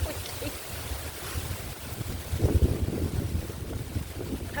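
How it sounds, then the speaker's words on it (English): Strong wind buffets an outdoor microphone, a steady low roaring rumble with gusts that swell louder midway, heard alone without talk. "It's so windy."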